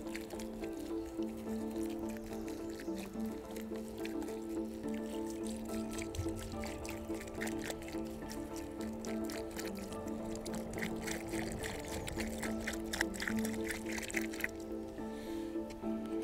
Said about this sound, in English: And then we're just going to pour this.